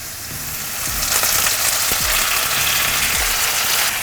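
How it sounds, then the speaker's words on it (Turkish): Carrots caramelize in a pan with honey and lemon juice, giving a dense hiss of frying that swells louder after the first second, with a few soft knocks of a utensil underneath. "Havuçlarım hafiften karamelize olmaya başladılar."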